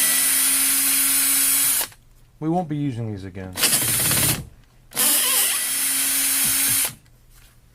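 Power drill backing nylon screws out of a Jackson Kayak Cuda 14 during rudder kit installation, several loud sustained whirring bursts separated by pauses, with someone speaking briefly between them.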